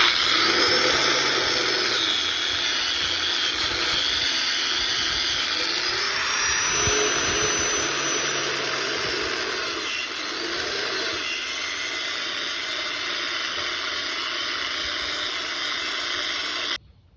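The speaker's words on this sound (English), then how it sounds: "This is an Engine Builder approved cylinder hone." A cylinder hone works the inside of a rusted, seized engine cylinder, giving a steady, close whirring, grinding hiss that runs unbroken for the whole stretch and cuts off abruptly at the end, with no talking.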